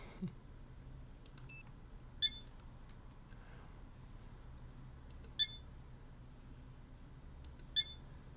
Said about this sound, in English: I should use my phone to make a call.